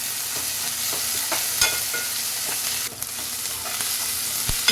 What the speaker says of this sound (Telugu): ఇప్పుడు ఒక స్పూన్ వరకు అల్లం వెల్లుల్లి పేస్ట్ పచ్చి స్మెల్ పోయే వరకు వేయించుకోవాలి.